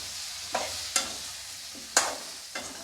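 Cauliflower florets being stirred and tossed in a hot pan for a gravy, with a steady low sizzle of frying broken by four sharp scraping stir strokes, close and alone without speech.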